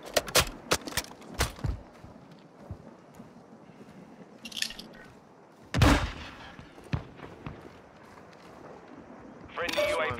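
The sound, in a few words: gunfire in a video game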